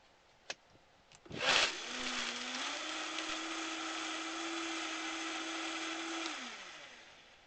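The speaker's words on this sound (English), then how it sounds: "I'm going to throw some ice in, and then I'm going to run it through real quick" Vitamix blender crushing ice for a non-alcoholic punch: a couple of faint taps, then a loud grinding burst as it starts, settling into a steady whirring motor hum that winds down near the end.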